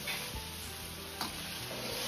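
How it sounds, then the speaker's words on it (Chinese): Prepared sauce poured in a slow circle into a hot wok over fried tofu, sizzling with a steady hiss and a brief sharper burst partway through, close and fairly quiet. "再倒入提前调好的料汁，下锅前一定得搅动下，像这样转圈的慢慢倒入锅中。"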